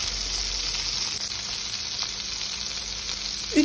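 Sliced mushrooms sizzle steadily in hot vegetable oil in a pan while being stirred continuously, a close, even frying hiss throughout with a faint utensil clink near the end.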